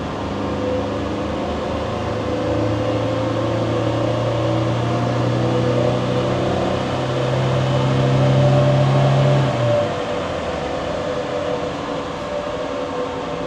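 A Land Rover Defender 300 Tdi diesel engine, its fuel pump just adjusted, is held at full throttle: a loud steady drone with a low sustained tone that cuts back sharply near ten seconds, heard from inside without talk.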